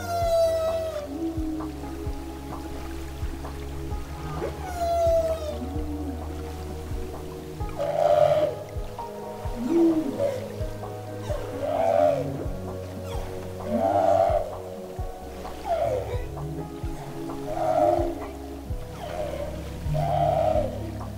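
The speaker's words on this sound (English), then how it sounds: "hearing the humpback whale's song" Long, moaning humpback whale song recorded by hydrophone rises and falls in a slow repeating pattern, echoing underwater over a low rumbling hum.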